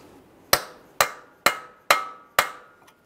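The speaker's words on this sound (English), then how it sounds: "we'll continue on with a hammer and punch directly in the center of the axle" A hammer drives a punch against the center of a CV axle shaft on a Ford Fusion, five sharp metallic strikes at an even pace, each ringing briefly, close and clear.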